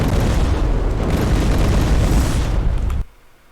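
A loud, dense roar of explosions fills a Terminator: Resistance game scene, a continuous booming blast rumbling for about three seconds before cutting off abruptly.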